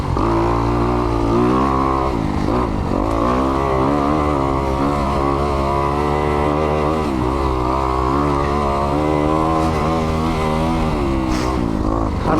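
A Kawasaki KX250X dirt bike rides along a mountain single track, its engine note droning steady and loud close by, rising and dipping with throttle changes across the whole stretch.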